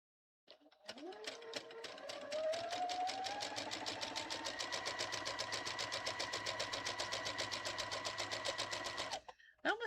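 A sewing machine stitches fabric in a steady fast run, its needle clatter pulsing evenly for about nine seconds after a brief start-up whine, loud and close with no talk over it.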